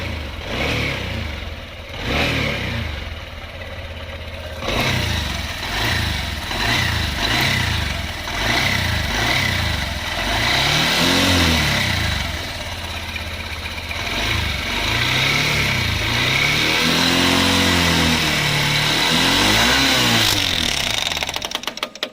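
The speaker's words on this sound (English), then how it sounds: "The engine's definitely making a slightly different noise" A 2023 Honda CB125F motorcycle engine with internal damage revs repeatedly in short bursts, rising and falling in pitch, loud and close throughout with no talking.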